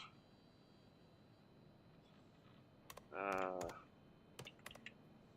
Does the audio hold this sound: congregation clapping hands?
no